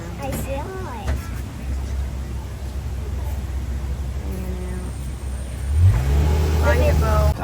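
A safari truck engine at Disney's Animal Kingdom hums steadily while driving, with a louder surge near the end, and people talk faintly over the motor noise.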